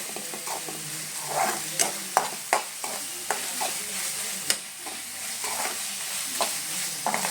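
Masala with ginger-garlic paste frying in a pan for a spicy soybean curry, a continuous close sizzle punctuated by irregular sharp spoon knocks and scrapes as it is stirred, with no talking.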